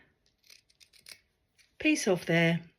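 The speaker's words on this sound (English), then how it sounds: "So I'm going to cut a piece off there" Scissors snipping fabric for a small Mediterranean-style quilt, a few quiet, irregular cuts close by before a voice speaks over the end.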